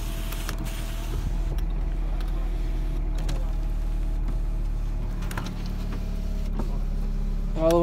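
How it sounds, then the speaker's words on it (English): Electric power windows of a used car being run up and down, a steady motor whine over a low engine-idle hum, with brief clicks and thumps as each window stops, close and fairly loud, no talking. "All the windows go up and down."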